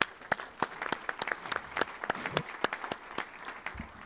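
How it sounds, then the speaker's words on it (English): Scattered applause from a modest crowd at a Rotary Club meeting, individual claps sharp and distinct, building into an uneven patter that stays fairly quiet and distant. "So a big round of applause to yourselves."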